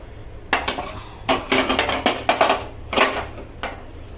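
A stack of dirty dishes and utensils clatters as it is handled for washing: close, loud clinks and knocks of plates and cutlery in uneven bursts over a low background, no talking.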